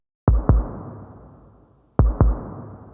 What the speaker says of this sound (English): The other kick is playing like a heartbeat and it sounds like this.